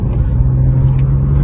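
A BMW M2 Competition's six-cylinder engine idles with a steady, deep low rumble and a constant hum, close and alone, without revving.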